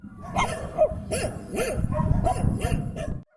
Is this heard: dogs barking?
yes